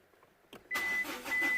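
A Mazda 2 1.5 diesel engine cranks briefly and catches, jumping into a loud, steady running idle within about a second, close up.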